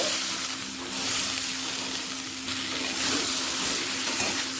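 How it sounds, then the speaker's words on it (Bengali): Steady broadband sizzling of soybean chunks and potatoes frying in a pan, constant and fairly close, with a faint low hum underneath and no talking. "সয়াবিনটা আলুর সাথে এক মিনিট ভেজে নেব"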